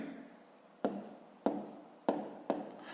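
A pen writes numbers by hand on paper during a fifth-grade maths exercise, giving faint close scratchy strokes in four distinct bursts, each fading out quickly.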